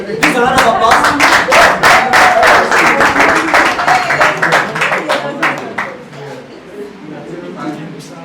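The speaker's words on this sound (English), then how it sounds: "Please, a round of applause." Enthusiastic clapping from a group, dense and steady for several seconds, then thinning out and fading toward the end.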